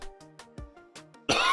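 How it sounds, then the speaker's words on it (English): A person coughs several times in short, separated bursts, fairly close and soft, each cough a brief dry hack, with no talking; a louder, rougher noise bursts in at the very end. "I'm sorry I keep coughing this whole thing."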